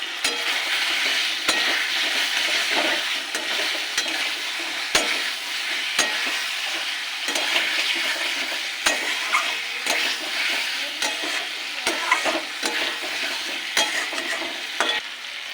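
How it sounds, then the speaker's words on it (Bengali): Fried potatoes stirred and scraped through oily, cooked-down spice masala in a wok, a steady sizzle broken by repeated sharp clinks of the spatula, close and fairly loud with no voices. "মশলা কষানো হয়ে গেছে, তেল ছেড়ে এসছে, এবার দিয়ে দেবো ভাজা আলু।"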